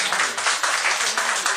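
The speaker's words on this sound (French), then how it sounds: "Applaudissez-vous." Audience applause at a lunchtime music performance, a steady wash of clapping from a crowd filling the whole short stretch without pause.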